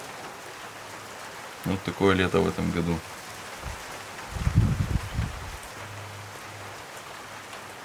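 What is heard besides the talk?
rain falling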